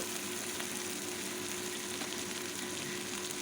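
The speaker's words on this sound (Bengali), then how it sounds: "দেখো বন্ধুরা তেলের মধ্যে আমি কিছু চিংড়ি দিয়ে দিলাম চিংড়িটা একটু ভাজা ভাজা করে নেব" Prawns frying in hot oil make a dense, steady sizzle that stays even and close from start to finish, with no voices.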